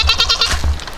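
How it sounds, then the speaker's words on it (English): A fluffy homestead goat bleats close to the microphone in a loud, quavering call that wavers through several pulses in about a second, with no talk over it. "Such a cute goat."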